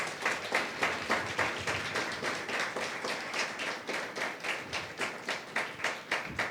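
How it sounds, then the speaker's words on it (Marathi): A church congregation claps together during a Sunday sermon, a dense, steady patter of many hands with a loose rhythmic pulse, fairly close and continuous throughout. "जरा टाळ्या वाजवा स्वतःसाठी."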